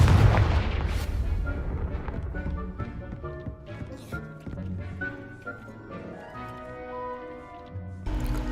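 A Confringo blasting spell from the video game Hogwarts Legacy, heard as a sharp opening explosion followed by scattered bangs, clatter and game effects, with another loud burst at the end.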